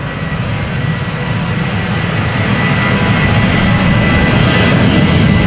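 KLM Boeing 737-800 jet at Amsterdam Schiphol Airport, a steady loud engine roar that holds and swells slightly, broadband and continuous, heard alone without voices.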